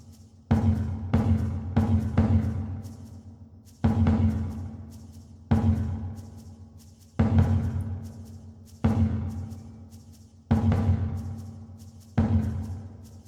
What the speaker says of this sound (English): You can hear that shaker in the background.